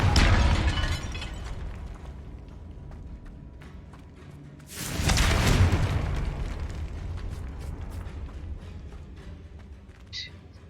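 Confringo blasting spell in Hogwarts Legacy: a loud explosive burst near the start, a mechanical rattling, then a second heavy boom midway that fades into crackling debris and a faint chime at the end.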